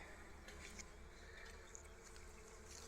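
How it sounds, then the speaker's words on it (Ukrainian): Steady insect buzzing of bees close by among roses, continuous with small flickers as they move, outdoors with a low background rumble. "зараз мене має вкусити бджола"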